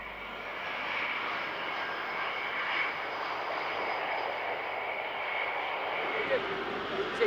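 Concorde, the supersonic jet airliner, flies during one of its final flights, giving a steady, broad engine roar that holds evenly for the whole stretch at a moderate distance with no talk.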